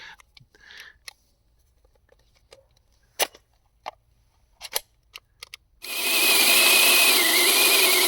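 A Makita 36 V mini chainsaw starts after some scattered clicks and handling taps, then bursts into a loud, sustained high-pitched buzz as it cuts into wood, close up.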